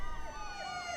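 Emergency vehicle siren from a Breaking Bad episode, a steady, loud wailing tone that holds for the whole second without rising or fading.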